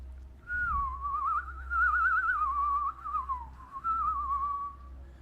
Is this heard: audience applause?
no